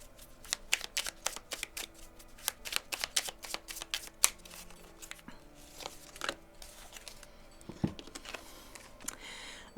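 A small deck of oracle cards is shuffled by hand, rapid close papery riffles and flicks in bursts with sharp taps between, no talking.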